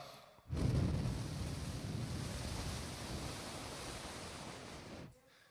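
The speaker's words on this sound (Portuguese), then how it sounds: "Vento que bate contrário." Strong wind blowing across a microphone during a church sermon, a steady broadband roar lasting about four and a half seconds, loud and close, with no talking over it.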